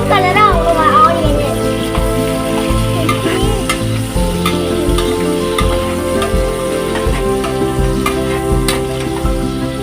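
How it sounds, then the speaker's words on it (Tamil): Onion and green chili fry in a pan after whole spices, a loud continuous sizzle with regular scraping strokes of stirring, while a voice speaks over it and children's voices sound faintly in the background. "இப்போ நம்ம ஆனியனும் பச்சை மிளகாய் போடலாம்."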